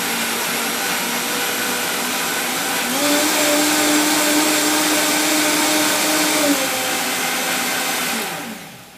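A Vitamix blender purees corn stock with a loud, steady whirring roar. Partway through, the motor pitch rises as the speed climbs and holds, then drops away at the end. No voices are heard.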